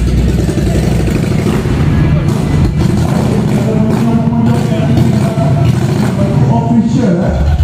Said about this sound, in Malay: Datang lagi sebiji motor chopper untuk masuk auto show.